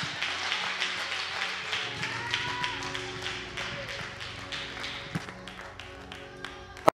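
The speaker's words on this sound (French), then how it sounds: "continuer à applaudir" Congregation clapping at a prayer-house church service, a steady run of many hands in close, busy rhythm, with faint voices mixed in and a sharp knock near the end.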